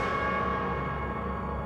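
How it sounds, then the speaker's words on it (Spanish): A church bell tolls in a slow, somber, steady way as an audiobook sound effect, its long ringing tone sustained at moderate loudness with no voice over it. "empezó a sonar la campana."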